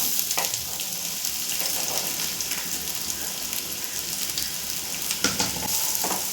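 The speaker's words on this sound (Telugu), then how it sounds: "ఆయిల్ హీట్ ఎక్కిన తర్వాత ఆనియన్స్ 2, 3 పచ్చిమిరపకాయలు, హాఫ్ వెల్లుల్లి వేసుకొని బాగా ఫ్రై చేసుకోవాలి." Onions, green chillies and garlic frying in hot oil, a steady close sizzle throughout with a few sharper crackles and spatters near the end, no talking.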